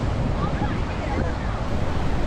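Hogenakkal waterfall sends up a steady, dense roar of rushing water that fills the whole stretch at an even, loud level without a break.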